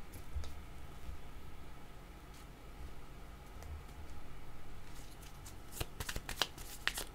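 Playing cards being shuffled and handled at a table, a soft papery riffle and scattered flicks at close range over low background hiss, with a quick burst of sharper snaps near the end.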